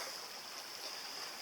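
Swift river water rushes past on a hiking trail crossing, a soft, steady hiss of flowing current heard faintly throughout.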